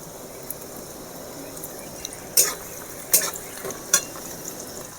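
Garlic, ginger, chili and onion frying in a pan for a chicken stew, a steady low sizzle with three sharper scrapes or clinks of a utensil against the pan, no talk.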